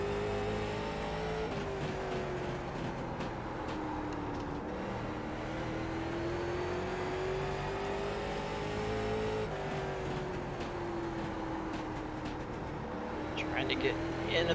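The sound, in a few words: late model race car engine in iRacing video game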